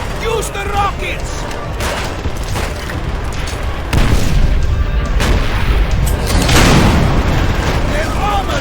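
Rocket fire and explosions against German tanks in the Call of Duty: World at War campaign, a dense run of heavy booms and battle noise with voices shouting over it.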